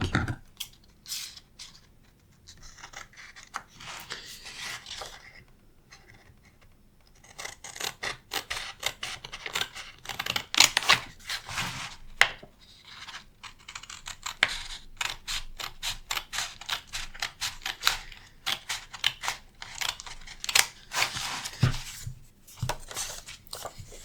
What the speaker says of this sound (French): Je vais même découper le petit cœur qui est avec.